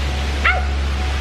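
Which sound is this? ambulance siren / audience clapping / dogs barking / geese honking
dogs barking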